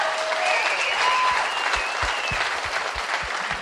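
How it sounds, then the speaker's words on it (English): An audience claps at a live taping in a theater, producing a thick, even wash of applause with a few whistles near the start and some low thumps underneath. "tip of the cap and a clappity clap for you guys"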